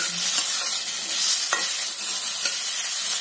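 Cluster beans fry in a small amount of oil, giving a constant bright sizzle with a few soft knocks of a spoon stirring in the pan, steady and close with no one talking.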